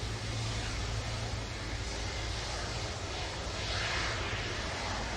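Jet2 airliner jet engines at Manchester Airport give a steady, loud broadband roar with a low rumble, continuous throughout with no talk over it.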